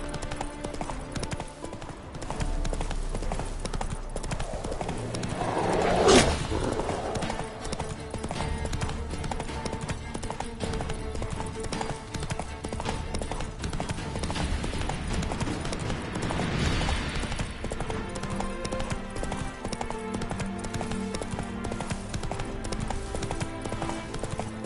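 Steady clip-clopping hoofbeats from Roach the horse galloping in a video game, a continuous rhythmic trot under ambient game noise and music that runs throughout.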